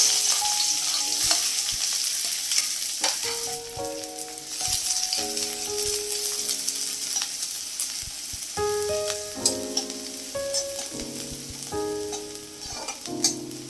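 Steady sizzling of chopped onion frying in mustard oil in a karahi, with occasional stirring and clinks of a utensil against the pan, close and continuous throughout.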